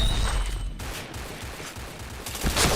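Rapid bursts of video-game gunfire come in quick succession, a chain of headshots with dense, punchy cracks that dip briefly near the middle and then swell loud again at the end.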